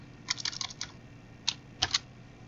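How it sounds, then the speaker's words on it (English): Keys on a computer keyboard clack in two short bursts, a quick cluster of taps, a pause, then a few more crisp, close strokes in a quiet room. "Let's type that."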